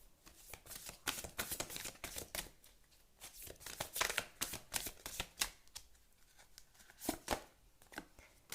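Tarot cards being shuffled and drawn by hand, a run of quick crisp riffles and flicks in uneven bursts, close and fairly soft with no talking.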